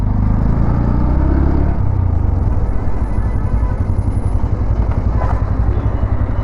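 A 2025 Bajaj Pulsar NS125 motorcycle engine runs loud and close, a heavy rumble with a deeper idle at first that then smooths into a steady whirring run.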